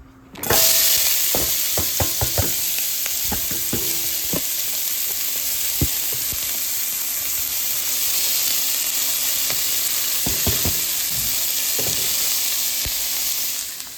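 Onions sautéing in a pan of sunflower and extra virgin olive oil for stuffed bell peppers make a loud, steady sizzle throughout, broken by scattered clicks and taps of a spoon against the pan.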